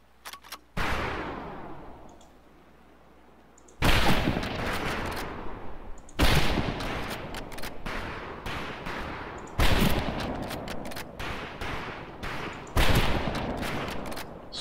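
Rifle fire at shooting-range targets in Medal of Honor Pacific, arriving in loud, close bursts of rapid shots separated by brief lulls, with no talking.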